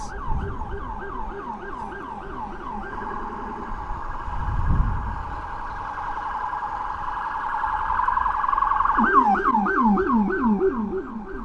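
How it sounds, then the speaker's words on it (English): A police rumbler siren, on an unmarked car on Fordham Road in the Bronx, New York City, cycles through rapid yelping wails, steadies into a long tone, then yelps again, with a low rumbling pulse beneath, loud and nearby. "You can hear the rumbler siren going."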